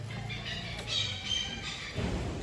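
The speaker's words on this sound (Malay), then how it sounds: "Burung." A bird on Pangkor island in Malaysia squawks in a few harsh bursts over a low background murmur, fairly close and moderately loud, with faint speech-like sounds nearby.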